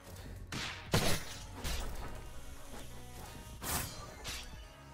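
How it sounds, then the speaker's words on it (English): Explosion in the video game Godspeed set off by a missed parry, a loud burst of crashing impact noise followed by several more whooshing blasts and thuds over about five seconds. "I miss one parry and an explosion goes off"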